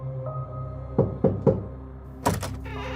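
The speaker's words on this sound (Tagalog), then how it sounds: "3 katok ang nagmula sa pinto bago pumasok si Lola Uring" Three knocks on a wooden door as a sound effect, evenly spaced sharp raps followed by a brief creak or thud of the door opening, alone with no talking.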